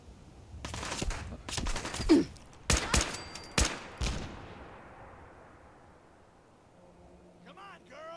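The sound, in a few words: gunfire in the video game Fallout 4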